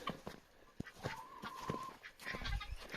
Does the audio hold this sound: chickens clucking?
yes